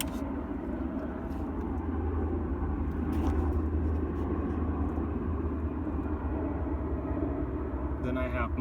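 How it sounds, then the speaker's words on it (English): A helicopter over a forest helitack base produces a steady low rumble that runs throughout, fairly loud and constant, heard near a parked off-road camper. "Sorry about the helicopter."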